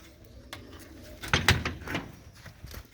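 Pigeons kept by a village fancier give soft coos and rustles, a short burst of nearby calls and wing or cage sounds swelling in the middle before fading back to quiet.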